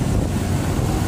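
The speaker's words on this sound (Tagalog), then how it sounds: "masyadong mahangin." Strong wind blows into the microphone outdoors, a loud continuous low roar filling the short moment with no speech.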